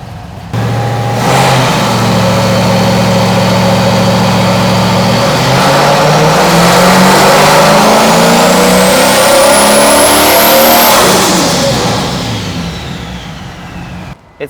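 A tuned LS1 engine in a 240 with a fuel pressure problem idles, then revs hard and loud with rising pitch as the turbo spools up, whistle climbing before falling away.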